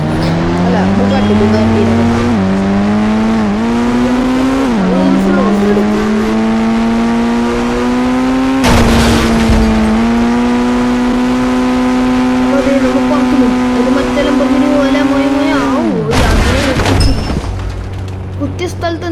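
A Bugatti sports car engine in the Indian Bike Driving video game drones loud and steady, its pitch climbing and dipping as it revs, with a couple of sharp booming impacts along the way.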